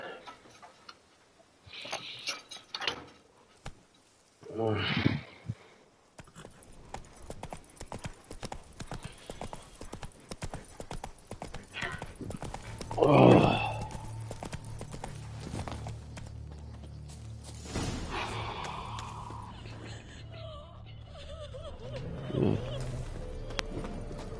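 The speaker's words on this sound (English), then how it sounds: "Whoa there, Roach." Roach, a horse in The Witcher video game, clip-clops along in an even, steady hoof rhythm with an occasional snort, set in the Toussaint region, while a person talks over it at times.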